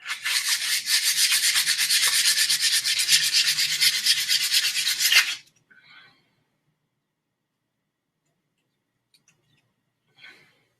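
Sandpaper rubs hard against a wooden wand in a steady, continuous rasping stroke for about five seconds, close and loud, then stops, leaving a few faint scrapes and rustles.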